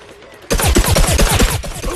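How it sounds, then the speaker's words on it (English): Suppressed Pea Cannon from the Agent P costume firing in Plants vs Zombies Garden Warfare, a rapid string of muffled, loud thumping shots starting abruptly after a brief quiet lead-in and continuing steadily. "Now the Agent P has a suppressed, silenced Pea Cannon."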